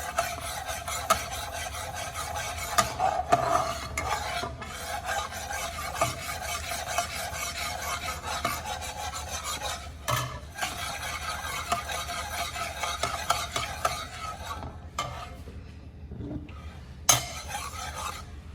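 Cashew katli mixture cooking in a pan, stirred at a steady pace for a long stretch, with rasping spatula scrapes against the metal over a light bubbling sizzle and occasional knocks, close up and without speech.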